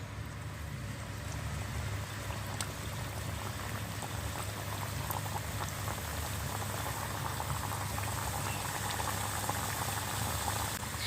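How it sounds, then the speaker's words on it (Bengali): Nimki dough pieces deep fry in a kadai of hot oil, giving a constant close bubbling sizzle with a faint low hum beneath, steady from start to finish. "এই কম আছে নিমকিগুলিকে আমি মুচমুচে করে গোল্ডেন ব্রাউন করে ভেজে নেব"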